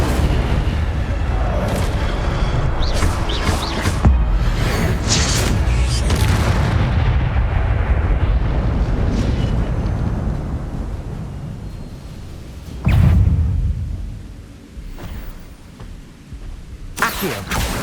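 Spells booming in Hogwarts Legacy on PS5, with Incendio fire blasts among them: deep, continuous rumbling bursts that swell and fade over several seconds, followed by a later sharp burst and sizzling magical crackles.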